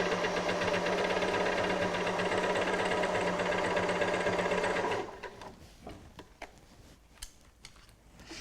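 A sewing machine stitches a cushion in a steady, continuous run for about five seconds, then stops, leaving faint handling clicks and rustles of fabric.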